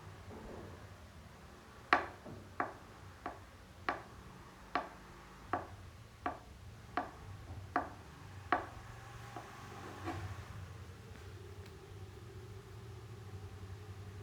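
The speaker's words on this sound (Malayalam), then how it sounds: "കായ അതുപോലെ തന്നെ നമുക്ക് അങ്ങനെ ഒരു 4 കീറാക്കിയിട്ട് അതും നുറുക്കാം" Raw plantain being chopped into pieces for Kerala vegetable puzhukku, about ten evenly spaced knife strikes on a board, faint against a low background hum, then a few softer sounds.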